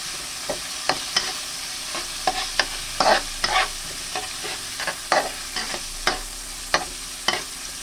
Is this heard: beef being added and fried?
yes